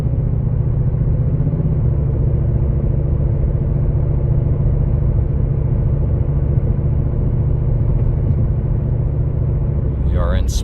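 A 2016 Lexus RC F with a supercharged engine and methanol injection, heard from inside the cabin as a loud, steady low engine drone that holds evenly throughout.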